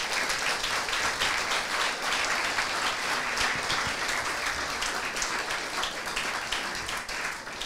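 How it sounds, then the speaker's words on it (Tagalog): A congregation at a church youth bonfire-night anniversary event claps together in sustained, thick applause, evenly loud from start to finish with no voices on top. "Malakas na palakpak sa ating Diyos na buhay."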